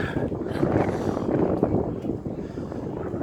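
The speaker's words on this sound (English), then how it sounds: "So it's a bit windy" Steady, blustery wind buffeting the microphone by the harbour at Lyme Regis, Dorset, a loud rumbling roar that continues throughout with no clear voices.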